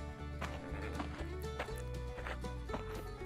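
Game horse sounds from Survivalcraft 2.3, with clip-clop hoofbeats and possible whinnies over a steady musical background, moderately loud throughout.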